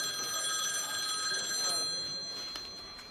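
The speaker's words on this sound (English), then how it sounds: "I received a phone call." A telephone bell rings continuously and fairly loud for about three seconds, bright and steady, with no one speaking over it.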